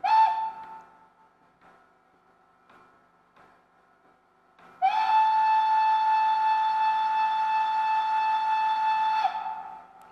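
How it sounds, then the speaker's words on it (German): A Gauge 1 model of a class 56 steam locomotive gives a brief whistle toot, then after a quiet pause blows one long, steady, piercing note for several seconds. "die Dampfpfeife, die man aktivieren kann als Geräusch, pfeift natürlich ebenfalls realistisch aus der Pfeife"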